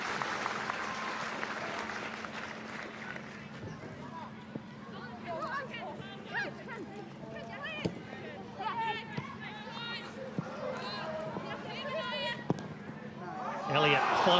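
Crowd noise at a women's A-League football match between Wellington Phoenix and Melbourne Victory, a steady roar of spectators with swells of cheering and scattered shouts, heard beneath continuous commentary.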